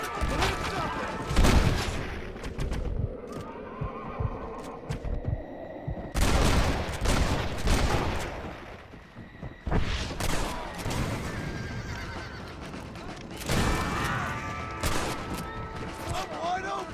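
Gunfire and booms from a Red Dead Redemption shootout, with loud, repeated bursts across the scene, mixed with horse whinnies and shouting voices.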